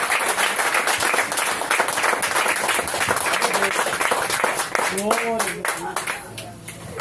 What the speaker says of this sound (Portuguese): As palmas louvam o Senhor em nome de Jesus